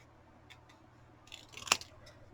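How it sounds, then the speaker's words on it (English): Scissors snipping paper while cutting out a Christmas card image, a few light faint snips leading to one crisp, louder cut near the end, close up in a quiet room. "So I'm just going to run with the scissors and just cut that out like so"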